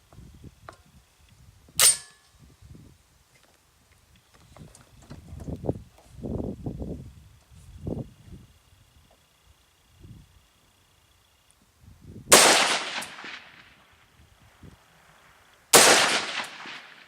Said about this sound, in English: we'll shoot 5 rounds and see what they look like